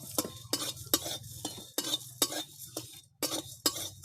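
Whole garam masala spices (cardamom, clove, cinnamon) frying in a wok, with a quiet low sizzle under a rhythmic series of sharp metal spatula scrapes and knocks, about eight to ten strokes, close and without voices.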